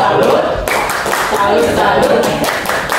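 A group claps a short rhythmic salute clap, loud and close, with sharp hand strikes in quick bursts, while a voice speaks over the clapping.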